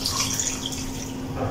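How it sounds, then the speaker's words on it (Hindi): Water poured from a cup into a pressure cooker holding mutton for Peshawari namkeen gosht, a steady close splashing pour with no voices. "अब हम इसमें पानी डालने लगे।"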